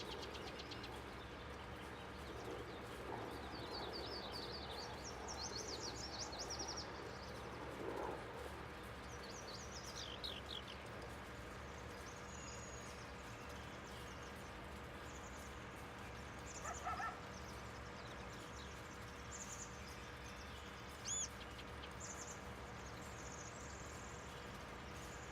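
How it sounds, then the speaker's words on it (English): Birds chirp and sing in short bursts in the farm countryside of the Farming Simulator 19 video game, faint high calls scattered through a steady low machinery hum. "just listen to the birds. Those birds actually sound really good."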